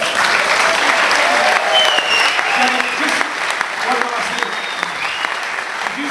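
Audience applause at a Victorian IFBB bodybuilding show, a steady, dense wash of clapping from a large crowd that holds for several seconds, with faint voices and cheers mixed underneath.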